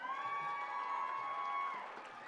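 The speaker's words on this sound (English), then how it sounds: "let's give a big round of applause for all the young ladies" A pow wow crowd at the Miss Indian World pageant, Gathering of Nations 2024, cheers and whoops for the young women contestants, a faint, distant roar with high sustained yells.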